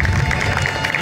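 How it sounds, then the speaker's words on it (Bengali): A crowd claps steadily through the whole second at a workers' bonus distribution event in Bangaon, giving a dense, continuous patter of applause. "জোর করে হাততালি দেবে।"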